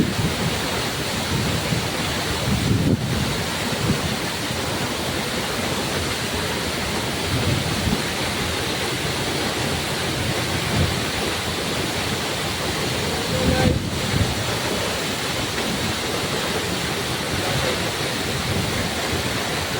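Lumondo Falls in Barangay Budlingin, Alegria, a waterfall roaring in a loud, steady broadband rush heard close up that fills the whole stretch, with a couple of brief bumps.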